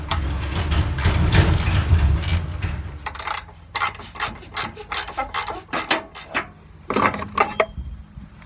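A seat being unbolted from a John Deere lawn tractor with a ratchet: a dense low rumble and clatter at first, then a run of quick, close metallic ratchet clicks in bursts, with no talking.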